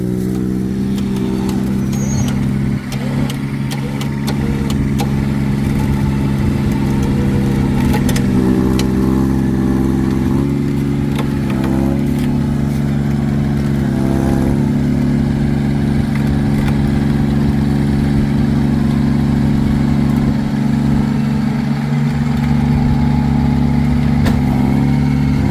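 A truck engine runs at a steady, loud idle while someone holds the brake as it is used to pull a stuck skid steer, a deep continuous rumble with slight shifts in revs throughout.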